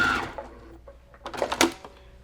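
A sewing machine stitches over earlier stitches on a small decorative cross stitch pillow, giving two short close bursts of rapid mechanical whirring separated by a pause.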